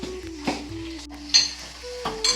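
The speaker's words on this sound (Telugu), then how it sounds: "ఇప్పుడు ఈ పోపు వేగిపోయాక ఈ పోపులో కొంచెం ఇంగు వేసుకుంటున్నానండి." Tempering spices sizzle softly in hot oil as asafoetida goes in for a lentil rasam, with a few light clinks of a spoon against the pan.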